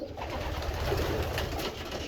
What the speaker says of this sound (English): I have about 55 birds in here. It is pretty crowded